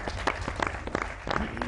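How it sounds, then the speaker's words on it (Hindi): Studio audience applause during an Eid special comedy talk show, a dense, steady patter of many hands clapping close by for the whole stretch. "तालियां।"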